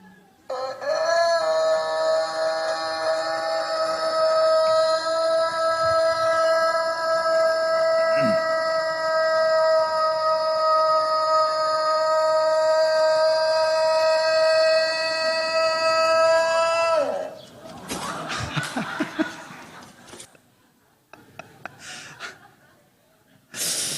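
Rooster crowing in a played video during a church sermon, one sustained, very long, strained, harmonic crow lasting many seconds and fading into breathy noises, followed by scattered rustles.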